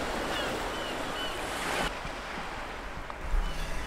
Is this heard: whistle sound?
no